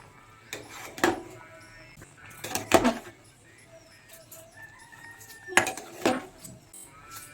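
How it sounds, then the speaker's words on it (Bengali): A spatula turns taro greens and a hilsa head in a metal pot, giving three distinct bursts of clattering scrapes against the pot separated by quiet pauses. "খুন্তির সাহায্যে নিচে কচু শাকগুলো একটু উপরে দিয়ে দেবো, আর উপরে কচু শাকগুলো নিচে দিয়ে দেবো"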